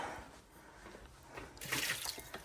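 Water running and splashing as a pet's water bowl is rinsed and refilled in a home kitchen, quiet dribbling that swells into a brighter, louder gush near the end, with no talk.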